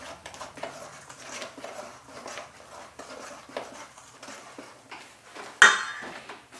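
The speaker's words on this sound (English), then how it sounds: "You want to squash the paste between the back of the spoon and the bowl, right?" A big serving spoon presses and scrapes paste against a bowl in soft, repeated squishing strokes, ending with one louder knock of metal on the bowl.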